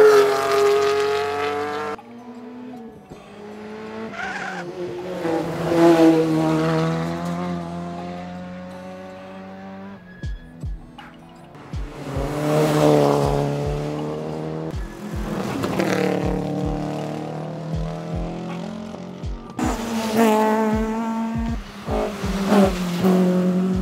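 Historic rally cars blasting past one after another on a stage at the Killarney Historic Rally, engines rising and falling in loud, rasping passes with pops and crackles, and quieter gaps between cars.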